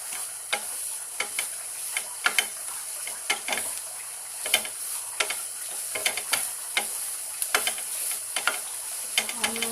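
Onions frying in a pan for egg tomato chutney, stirred with sharp regular clicks of a spoon against the pan over a soft steady sizzle, close and fairly quiet, no talking.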